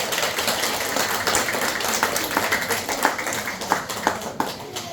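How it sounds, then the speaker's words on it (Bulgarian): A concert audience applauds after a children's vocal group performs a song, with steady, dense clapping that carries on throughout and sharper individual claps standing out near the end. "Аплодисменти!"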